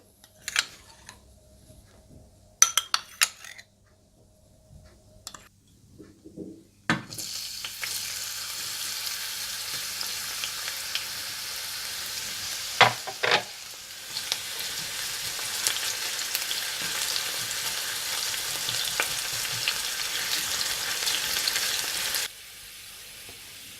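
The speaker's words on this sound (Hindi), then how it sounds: "घी गरम करें और इसमें प्याज डालकर हल्के गोल्डन ब्राउन कर लें" After a few clinks and clatters, onions hit hot ghee and sizzle steadily for a long stretch, frying to light golden brown for Darbari dal, with occasional stirring scrapes, then the sizzle cuts off.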